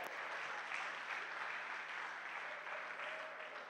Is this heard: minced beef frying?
no